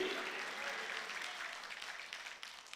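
A church congregation claps together during a worship service, a dense wash of applause that slowly thins and tapers off, heard at moderate distance without speech.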